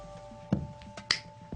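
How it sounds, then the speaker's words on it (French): A single sharp finger snap during a close-up card trick, a crisp click near the middle of a quiet room with a faint thump a moment earlier and another soft tap at the end. "d'un claquement de doigts"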